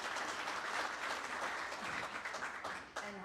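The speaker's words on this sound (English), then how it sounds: "Let's give a big round of applause to Hagen." An audience at a professional hunting association open session claps in a sustained round of applause, fairly faint and steady, tapering off near the end as a voice begins.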